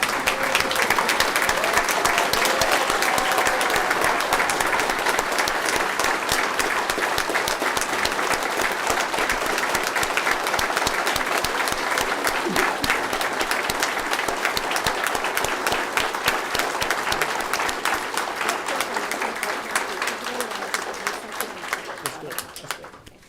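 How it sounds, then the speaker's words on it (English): An audience stands and applauds at a city council meeting in El Paso: a long, dense, steady round of clapping close to the listener that holds strong for about twenty seconds before tapering off at the end. "we're going to all stand and give you a round of applause"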